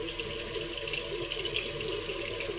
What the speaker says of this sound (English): Just wetted in cold water